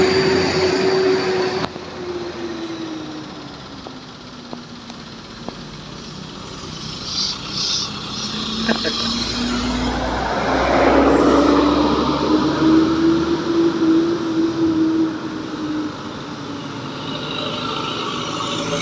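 A train rolls past with a broad rising and falling rumble and a steady tonal drone, loudest near the middle, then slowly fading, with no talking.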